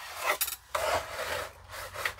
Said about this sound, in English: I'm just going to rub down all the way to the bottom.